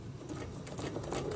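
Home sewing machine stitching through a quilt layer, a fast, steady mechanical whir and patter running continuously at close range with no talking.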